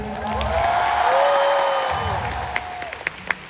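A large arena concert crowd at AsiaWorld-Expo applauding and cheering, loud dense clapping swelling with high screams and whoops, then thinning toward the end.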